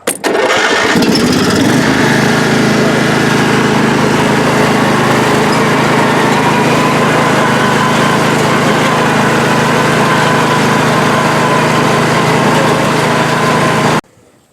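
A Husqvarna riding lawn mower engine starts with a sputter, then runs steadily at a loud, even drone up close before cutting off abruptly near the end.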